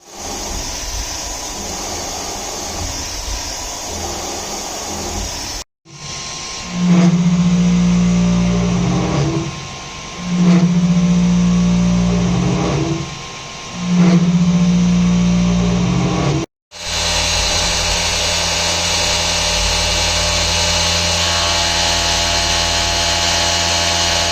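CNC milling machine running an operation on a DIY 5th-axis trunnion: a steady machine hum, then three loud pulsing cutting bursts with a low droning tone separated by short lulls, before the steady running resumes.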